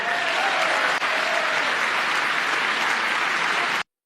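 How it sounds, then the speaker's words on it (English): Republicans in Congress applaud, a dense and steady wash of clapping that fills the chamber for several seconds and then cuts off abruptly. "You have Republicans clapping for Doge."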